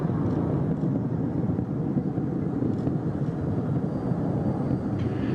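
Space Shuttle Atlantis on its final launch from Kennedy Space Center: a steady, heavy, broadband rumbling roar that fills the whole stretch at constant loudness, distant and unbroken, with no voices.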